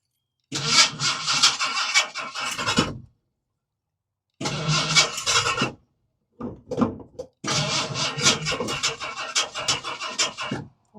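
A 1964 Ford F100 truck with a 4.6 engine cranks and catches in loud, close bursts separated by short silences. It then settles into a steady idle, and no one speaks.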